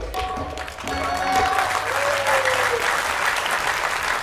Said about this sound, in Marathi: या पब्लिकच्या टाळ्या पडून राहिल्या.